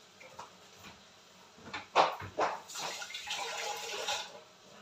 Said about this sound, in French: Et là, je vais rajouter de l'eau.